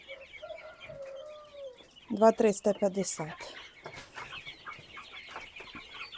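A rooster in a chicken coop gives a short crow, then a burst of rapid, loud clucking as it is set down to be weighed, with a person speaking briefly nearby.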